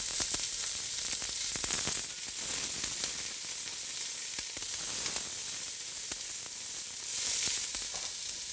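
Chopped onions sizzle steadily in a pan over medium-low heat for black bean chili, a continuous bright frying hiss with small pops and swells, close and alone with no talking.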